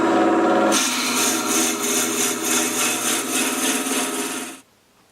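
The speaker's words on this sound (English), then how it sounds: "with the parting tool, it's the same sort of cut. It's the levered cut into the wood" Parting tool cutting across the grain of stabilized wood spinning on a lathe, a loud continuous scraping hiss with a steady rhythmic pulse that stops abruptly near the end.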